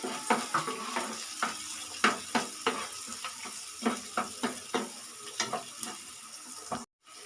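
Chopped onions and green chillies frying in a pan for an egg omelette curry, with a low sizzle broken by a dozen clanking stirs and scrapes of a spoon at an uneven rhythm.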